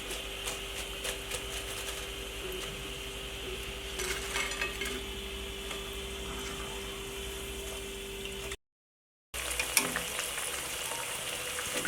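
Potato and vegetable pakoras deep-fry in hot oil with a steady, dense crackling sizzle that runs throughout, broken only by a brief silent gap near the end.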